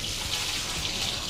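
Water runs steadily from a tap while a sugar nylon backpack rain cover is washed with a small sponge, a continuous soft splashing hiss with no speech.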